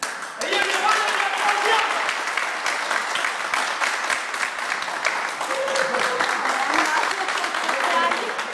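A crowd applauds steadily, with dense clapping that fills the whole stretch, and a voice can be heard over it.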